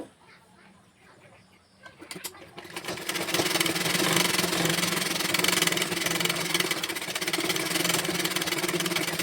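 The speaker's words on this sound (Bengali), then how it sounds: "এখন সাইডের অংশটুকু সেলাই করে নেব" A sewing machine stitches the side seam of a dress, starting quietly and then running at a steady, rapid whirring clatter close up that continues to the end.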